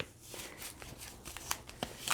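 Tarot cards being shuffled by hand, a soft run of papery riffling and flicks with a few sharper snaps, close and fairly quiet.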